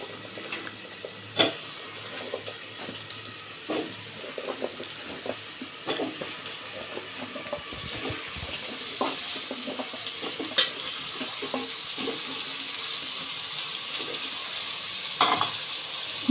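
Eggplant pieces fried in spiced masala in a pan for an eggplant and prawn curry, giving a low continuous sizzle with scattered soft clicks and scrapes of stirring spread across the stretch, close but faint, with no voices.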